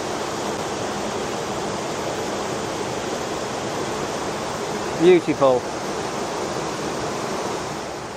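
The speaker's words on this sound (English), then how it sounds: "the water cascading over the waterfall" A steady, full roar of cascading water rushes without a break at Crammel Linn waterfall, Gilsland, and a single spoken word briefly rises above it partway through.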